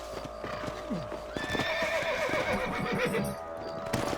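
Horse hooves clip-clop in a steady trotting rhythm in Red Dead Redemption, with a whinny and layered game background sound, fairly quiet throughout.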